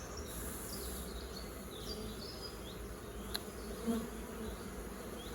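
Dense, steady buzzing of many honeybees around an open hive fills the air continuously, with a few individual bees droning closer now and then.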